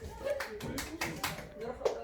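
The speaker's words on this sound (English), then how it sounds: "Applause, please." Pupils in an English class at a Kazakh school give a short burst of applause. The claps come in quick, rhythmic bursts and sound quiet and slightly distant.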